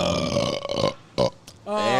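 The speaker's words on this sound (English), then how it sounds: "Yep, burp time." A short, loud burp breaks out amid chatter at a beer bar with pinball, and people talk before and after it.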